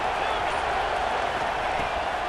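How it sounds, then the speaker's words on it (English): A home crowd roars and cheers in EA Sports College Football 26, a dense, steady wall of stadium noise with clapping mixed in, loud and continuous throughout. "how nice is it to have the home crowd going absolutely bananas"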